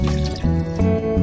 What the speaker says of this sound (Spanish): Vamos a añadirle alrededor de un litro de agua para hacer el caldo.